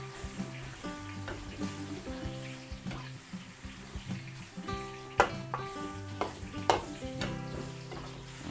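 Marinated meat for igado sizzles steadily in a hot pan while a utensil stirs and scrapes it in irregular clinks and knocks, close and fairly quiet, with no voices.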